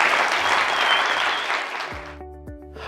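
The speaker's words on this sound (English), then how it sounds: "So let's give them a round of applause just for being here." An audience gives performers a round of applause, a full burst of clapping that fades over about two seconds before cutting to a quiet musical tone.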